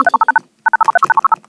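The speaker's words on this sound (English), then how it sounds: "Let me dial in the number." A telephone number is dialed on a phone as loud, clean DTMF tones: five quick beeps, a short silence, then a longer run of about eleven evenly spaced beeps.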